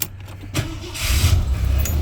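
A 1979 Lincoln Continental Mark V Cartier Edition cranks briefly after a light click, catches quickly and settles into a steady, rumbling idle, recorded close with no talking.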